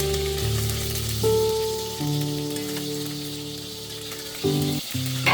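Beef pieces brown in a pan over medium-high heat, giving a steady close sizzle with a few shifts in intensity, heard alone without speech.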